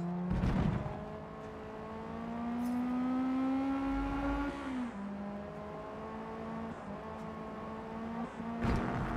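A racing car engine in Forza Motorsport 2023 revs and whines steadily, its pitch rising and falling through gear changes, loud and close with no talk.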